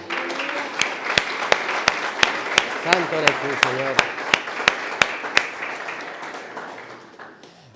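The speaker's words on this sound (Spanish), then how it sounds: "Dale un fuerte aplauso al Rey de Reyes." Congregation gives a rhythmic round of claps for the King of Kings at an evangelical worship service, steady sharp beats under a sung line and a speaking voice, fading out near the end.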